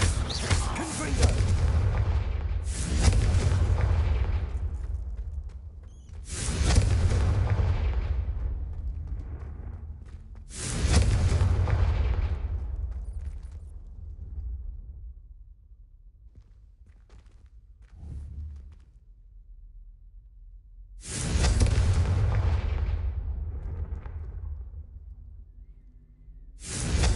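Confringo blasting-spell explosions go off in a Hogwarts wizarding game as five heavy booming blasts, each with a long rumbling decay. Quieter gaps and a faint thump sit between them.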